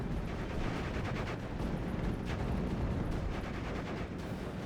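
Dense, distant-sounding battlefield gunfire from units in the World War II strategy game Steel Division, with overlapping shots and bursts rolling continuously at low volume.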